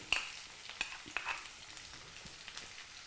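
Chopped onions fry in a pan until brown, giving a quiet, steady sizzle broken by a few sharp spoon scrapes and stirring clinks close by.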